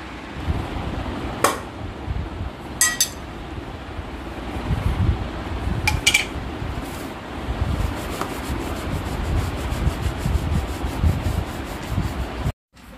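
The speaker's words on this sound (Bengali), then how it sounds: "এখন হচ্ছে যে জুতোগুলো পালিশ করবো" Shoes are polished by hand with a steady scratchy rubbing of brush or cloth against leather, continuous and close, with a few sharp clicks and taps scattered through and a faint background hum.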